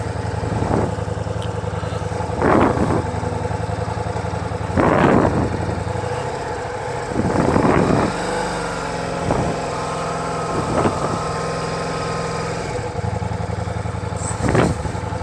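A 2023 Ducati Diavel V4 motorcycle starts and then idles close by in a steady, throbbing rumble, with several sharp throttle blips rising and falling over about fifteen seconds.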